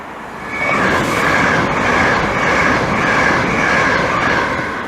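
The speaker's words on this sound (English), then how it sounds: "Yeah, that's definitely a train." A class 395 Javelin passenger train rushes past at Chestfield and Swalecliffe, a loud, close roar of rolling wheels with a rhythmic pulsing whine that swells in and fades slightly as it goes by.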